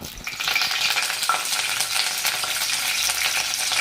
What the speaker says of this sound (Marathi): मोहरीला चांगलं तडतडून द्यायचं आहे आपल्याला